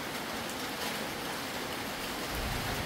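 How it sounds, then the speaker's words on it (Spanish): Heavy rain pours steadily during a severe thunderstorm in Chalatenango, a dense constant hiss of close downpour with no distinct thunder crack standing out. "Sigue lloviendo, está tronando"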